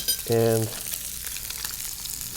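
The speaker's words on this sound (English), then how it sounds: "So those are sizzling up." Salmon fillets sizzling in a frying pan, a loud burst of frying hiss and crackle that fades within a second into a low, steady background sizzle, with a brief spoken word over it.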